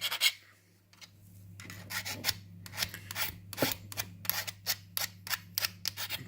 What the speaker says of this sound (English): So you file this down just enough so the solder will stick and melt to it.